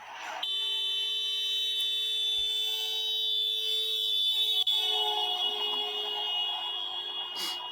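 A steady high-pitched electronic alarm tone sounds continuously, its pitch sliding gradually lower as it moves past, demonstrating the Doppler effect, loud and alone.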